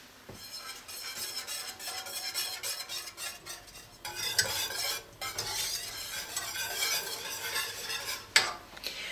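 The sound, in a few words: whisking simmering huli huli sauce in a saucepan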